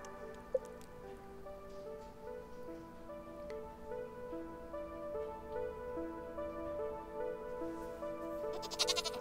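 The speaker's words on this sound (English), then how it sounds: "I still need to fill my barn with new animals, so we're gonna get some goats." Goats bleating in the farm game Stardew Valley, soft game-animal calls scattered over a steady layer of in-game music, moderately quiet with no talking.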